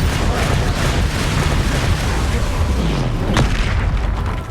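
A Confringo spell in Hogwarts Legacy lets off a heavy, rumbling boom, loud and close, that rolls on steadily for several seconds before it fades.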